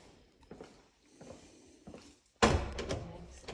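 A locked door at the abandoned Walter E. Fernald development center is rattled and pushed, a few soft knocks and footsteps followed by a sudden loud thud and clatter, with no talking.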